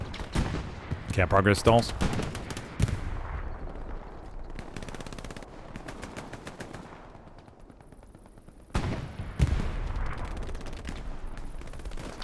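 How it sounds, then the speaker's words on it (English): MG42 machine gun bursts rattle out in Hell Let Loose on the Kursk map during a competitive finals match, rapid fire repeating in clusters over a busy battlefield with occasional louder cracks, while a voice talks over parts of it. "pour on that MG42 fire out there to the distance"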